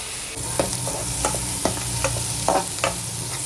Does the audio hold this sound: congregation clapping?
no